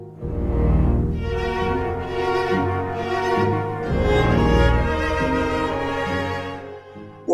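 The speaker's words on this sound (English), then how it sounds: "Listen to this melody from 4 solo violas and flutes." A melody from Stravinsky's Rite of Spring played by four solo violas and flutes, the first violas moving in thirds; sustained, layered orchestral lines swell and recede steadily with no talking.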